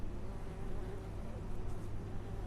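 Steady low buzzing of bees in a video game, a continuous droning hum that holds at an even, fairly faint level throughout with no pauses.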